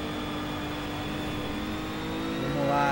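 Ginetta G55 GT4 race car in the Project Cars racing game accelerating steadily, a continuous engine drone with a rising whine that swells louder near the end, heard alone.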